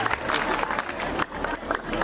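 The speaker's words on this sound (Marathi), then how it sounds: "टाळ्यांचा गजर होऊ द्या." A school audience breaks into a short burst of clapping, a dense patter of many hands close by with crowd murmur mixed in.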